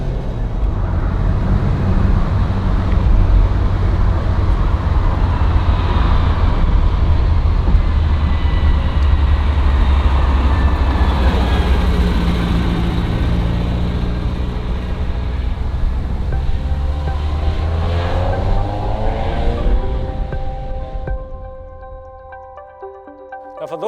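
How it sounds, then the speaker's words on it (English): Engine of a 1981 Ferrari 308 GTB with carburetors, off throttle with the clutch pressed: a loud steady drone with deep low rumble and a faint whine, easing and fading near the end. "Every time I let go of the gas and step on the clutch, there's the noise."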